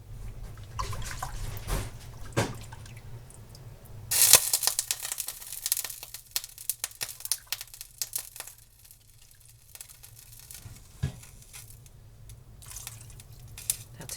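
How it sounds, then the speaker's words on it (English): Liquid from a pot of beans drips and sizzles on a stovetop in a home kitchen, with scattered crackles and small splashes against a low hum, a louder burst partway through. "That's me dripping on the stove."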